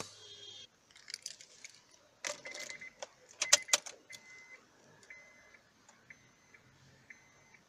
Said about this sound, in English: I'm just going to turn on the ignition and do that real quick.